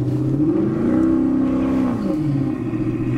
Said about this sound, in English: We also did the exhaust on the car.